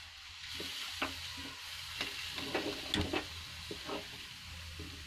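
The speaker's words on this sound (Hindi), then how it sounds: "ये हम इसमें 1 गिलास दूध और डाल देंगे और इसको भी अच्छे से मिक्स कर देंगे" Milk being stirred into moong dal paste for halwa, heard as a steady low sizzling wash with soft repeated scraping strokes of a spoon against the pan.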